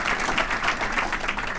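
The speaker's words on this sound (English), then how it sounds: "Please give them a round of applause as well" A brief burst of audience applause at a Torrance Area Chamber of Commerce State of the State luncheon. The clapping is moderately loud and steady, with a slight pulsing texture.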